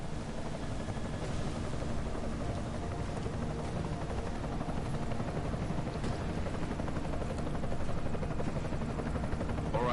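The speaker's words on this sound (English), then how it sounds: "Enemy helo sighted." An enemy helicopter in Deus Ex drones steadily with a low thumping rotor, a continuous moderately loud hum that holds for the whole stretch with no speech.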